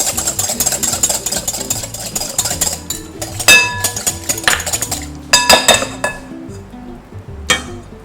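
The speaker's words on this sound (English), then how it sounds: "I'm gonna just whisk in some olive oil" Olive oil being whisked into a pineapple vinaigrette, with quick metallic clinks and rattles of the whisk against the bowl, close and busy, bursts of tapping over a low steady background hum.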